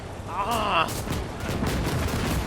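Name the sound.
gunfire from tanks in the video game Call to Arms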